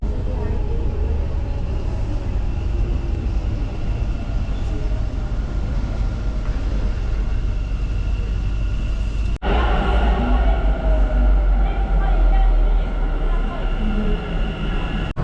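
Steady low rumble inside a moving Bangalore metro train, constant and loud throughout, with a brief dip midway before the rolling noise resumes stronger.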